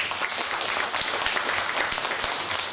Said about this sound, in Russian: это достойно аплодисментов, Владимир